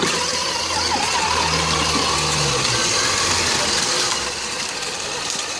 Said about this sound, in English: The gas pedal. step on that.